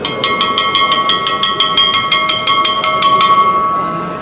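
Metallic hammer knocks signal a Holy Week procession in Malaga, struck in a steady rapid series of about fifteen ringing blows with a bell-like tone, loud and close, fading out at the end.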